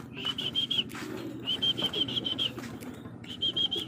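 Racing pigeons land at the loft with bursts of wing flapping. High, repeated chirping calls come in short clusters over a steady low murmur of cooing and movement close by.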